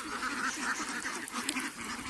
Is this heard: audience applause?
no